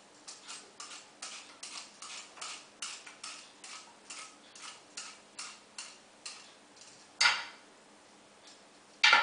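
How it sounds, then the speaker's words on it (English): Repeated scraping strokes of a hand peeler taking the skin off an apple, a steady close rhythm of short rasps ending with a couple of louder knocks, with no talk. "I'm going to demonstrate for you how to peel and core an apple"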